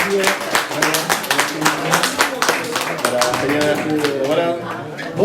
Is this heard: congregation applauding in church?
yes